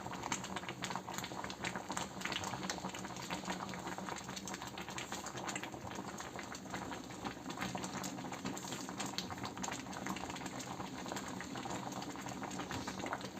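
A ragi mudde mixture of finger millet boils in a pot, giving a steady, close bubbling and patter that continues without a break, with no voices.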